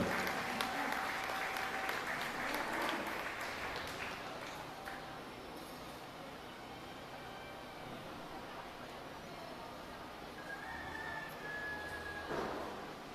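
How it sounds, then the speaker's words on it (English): An audience applauds at a youth livestock show, the clapping loudest at the start and thinning into scattered claps and background crowd noise. "let's have a round of applause for our exhibitors from Bred and Own."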